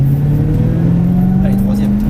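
A car accelerates on a race circuit during a driving course, its engine holding a steady, rising mid-pitched drone up close for a couple of seconds.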